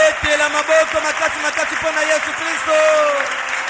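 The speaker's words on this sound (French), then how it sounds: "Est-ce qu'on peut acclamer Jésus très très fort?" A church congregation applauds and cheers for Jesus during a French-language worship service, a dense wash of clapping and crowd noise with a loud voice carrying over it throughout.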